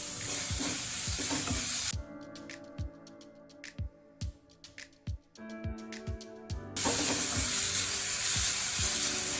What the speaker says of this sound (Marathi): आणि हे दोन आपल्याला तेलामध्ये परतून घ्यायचं एक चमचा तेल टाकायचं